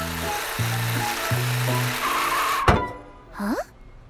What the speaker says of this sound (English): I can hear the bus